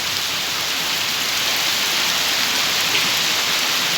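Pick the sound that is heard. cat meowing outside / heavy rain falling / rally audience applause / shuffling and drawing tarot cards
heavy rain falling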